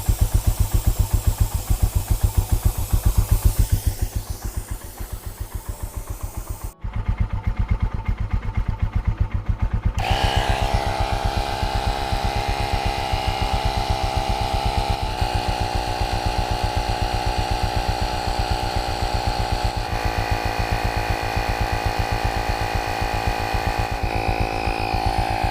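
A portable air inflator pumps up a bike tyre with a steady, close buzzing drone that briefly cuts out and restarts, then runs on evenly.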